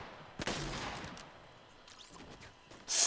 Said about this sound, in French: C'est quoi ce fusil à pompe?